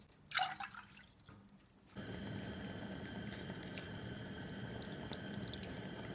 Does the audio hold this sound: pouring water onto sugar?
yes